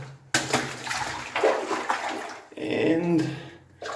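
Splashing and sloshing as someone wades through clear, shin-deep water inside a flooded old mine on Mount Karangahake, New Zealand, with uneven watery steps close by.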